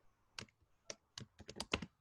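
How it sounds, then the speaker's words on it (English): Keys clatter on a computer keyboard in short irregular bursts, a few isolated presses followed by a quicker run of taps, close and clear against a quiet room. "you can type in whatever you need to say"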